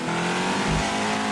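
A car engine in a video game revs steadily and loudly, a continuous droning whine with a brief surge partway through, heard with no speech.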